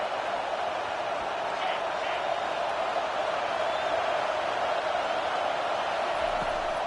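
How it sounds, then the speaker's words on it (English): Stadium crowd noise in a college football video game, Nebraska at Georgia, building for a big moment: a constant, even roar with no breaks, filling the whole stretch. "This crowd knows they have to bring it in big moments"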